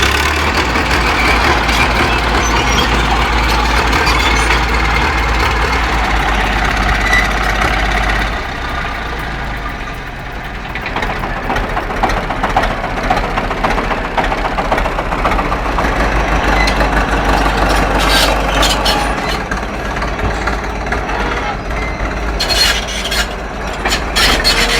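An old crawler tractor engine runs loudly and steadily close by, a rough, grinding roar with a deep low drone that dips briefly midway before picking back up.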